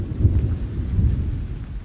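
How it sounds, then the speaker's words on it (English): Rain and thunder from the Roblox video game form a steady low rumble with a continuous rain hiss, loud and without any voices. "It's raining!"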